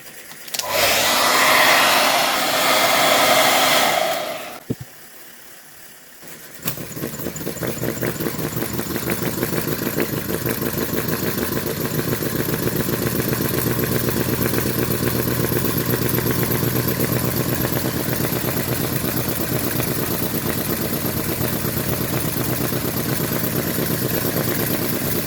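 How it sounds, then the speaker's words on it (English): A small model V-twin desktop suction engine chugs steadily and evenly for about twenty seconds after a brief loud blast of broadband noise at the start, with a close, continuous rhythmic beat. "I've obsessively tuned these to get a nice chugging sound from this"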